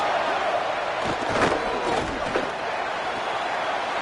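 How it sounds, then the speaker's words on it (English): Home crowd at a CFL football game, a steady broad roar of cheering filling the stadium throughout, with brief louder swells near the middle. "this home crowd getting involved right from the start"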